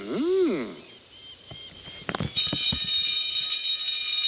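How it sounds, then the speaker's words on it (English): A sliding, warbling tone fades out, a few clanks and knocks follow, then a shrill, continuous alarm blares steadily. "The alarm has sounded."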